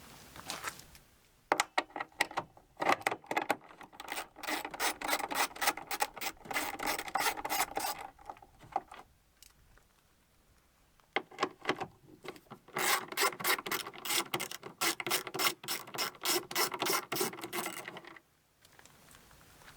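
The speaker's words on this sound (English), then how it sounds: "we'll grab a 10mm socket, a short extension, and a ratchet. I'm going to remove this bolt here and this bolt here." A ratchet with a 10mm socket and short extension works bolts out of a 2008–2013 Subaru Forester tail light, a close run of rapid clicking in two long bursts separated by a brief pause, with no talking.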